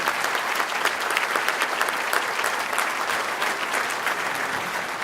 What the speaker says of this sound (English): please rise so we can applaud you this morning